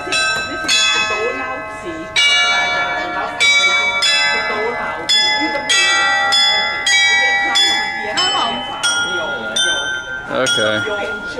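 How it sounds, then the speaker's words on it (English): Church bells in a Rhine riverside wine town peal loudly and continuously nearby, overlapping repeated strikes ringing out with a bright, sustained metallic tone. "Those bells aren't even moving."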